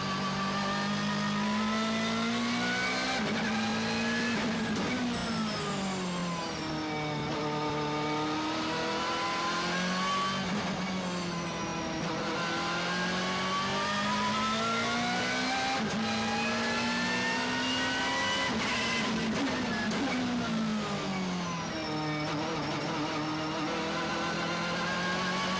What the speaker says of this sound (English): Just listen to the whine on this thing.